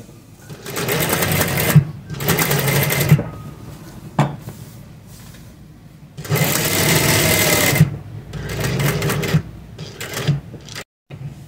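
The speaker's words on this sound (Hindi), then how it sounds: "फ्यूजिंग के साथ साथ सिलाई लगा लेंगे।" A sewing machine stitches a kurti neckline, the motor whirring in several loud sustained bursts of a few seconds each, separated by short pauses with small clicks and handling knocks.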